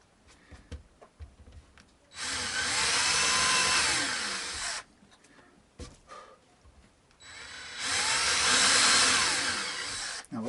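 A hand drill bores string-through holes in a guitar body, running in two sustained whirring bursts of about two to three seconds each, with quiet handling clicks and pauses between them.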